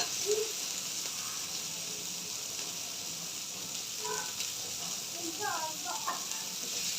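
Steady sizzling hiss of vegetables sautéing in a hot pan on high flame, continuous and fairly quiet throughout, with a few faint clinks and scraping sounds.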